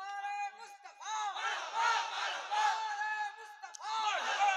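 A crowd at a religious jalsa gathering roaring a call-and-response slogan, several loud sustained shouted waves of many voices, close and echoing.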